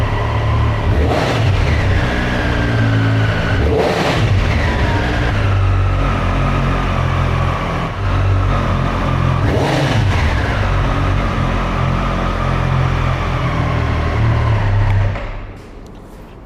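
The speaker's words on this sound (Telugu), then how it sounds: "సో ఇంజన్ సౌండ్ అయితే చాలా రిఫైన్డ్ ఉంది." A 2023 Triumph Street Triple RS motorcycle engine runs close by, holding a steady idle broken by several sharp revs that rise and fall, before cutting to quiet near the end.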